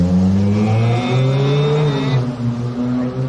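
Ferrari sports car engine revving in a video game, a loud sustained roar whose pitch climbs and then drops back, close and continuous over about three seconds.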